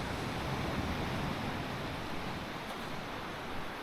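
Ocean waves wash steadily around a sailboat at sea between the Caribbean and the Bahamas, a dense, constant broadband rush mixed with wind, with no distinct breaks or talking.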